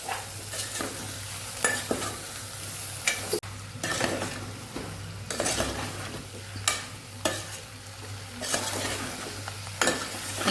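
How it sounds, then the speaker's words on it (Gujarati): Potatoes sautéing with salt in a pressure cooker, stirred again and again with scraping strokes against the metal over a continuous sizzle and a low steady hum, close and moderately loud, no speech. "બધું સરસ મિક્સ કરીને સાતડી લેશું"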